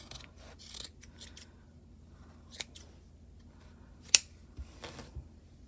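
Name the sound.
cutting yarn with heavy duty scissors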